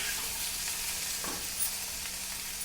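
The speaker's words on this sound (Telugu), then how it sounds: "ఇలా వేపుకుంటూ ఉండాలండి." Chopped okra fries in hot oil in a pan with a continuous close sizzle and a soft scrape of stirring midway, no talk.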